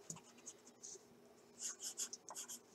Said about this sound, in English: So I'm just taking my pencil and I'm doing the same thing to all four of my leaves.